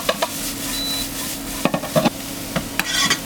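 Squash sautéing in olive oil in a restaurant pan: a constant, close sizzle with repeated scraping strokes from stirring, the knocks and rasps arriving at an irregular rhythm.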